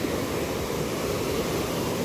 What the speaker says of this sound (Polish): to są oczywiście, jak na góry przystało, górska rzeka.